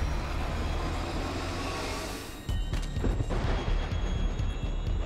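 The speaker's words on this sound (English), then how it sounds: "We got train." A train rumbles past in the video game Black Future 88, a loud, continuous heavy roar that briefly dips and then surges back with rattling clatter.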